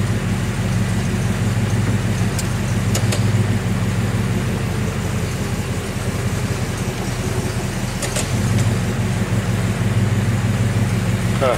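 A car with a worn-out BW 35 automatic transmission idles while warming up, a steady low engine rumble held close and even, with a few brief clicks and clanks on top.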